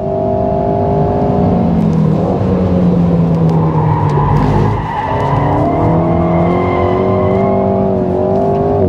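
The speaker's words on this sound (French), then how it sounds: "Il faut accélérer tôt pour pas trop perdre." A 2022 Alpine A110 S sports car accelerating on a track, its engine loud and close with a rising, falling, then climbing tone through gear changes and a brief dip near the middle, tires squealing along.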